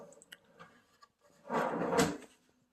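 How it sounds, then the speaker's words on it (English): A wooden drawer on side mount glides slides shut with a short rolling rumble that ends in a soft thump, following a few faint clicks and taps, all fairly quiet and close. "And check out this drawer."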